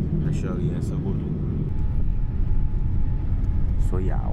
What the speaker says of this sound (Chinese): 看看波音787的落地是多么的平稳